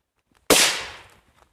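A single loud firecracker bang bursts out close by and trails off in a short fading crackle.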